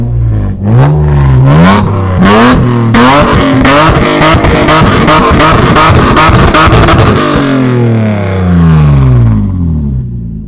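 Lexus GS 300 engine cranking and firing up loudly close by, then revved repeatedly in sharp bursts before settling back toward a falling idle, with no talk over it.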